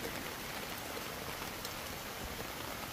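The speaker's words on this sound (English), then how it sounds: "even though it's raining." Steady rain falls on a garden pond water feature, a continuous dense hiss of drops hitting the water surface, close and even throughout with no voices.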